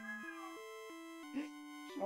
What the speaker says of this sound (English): Shelby, I love you, but you gotta turn your meower off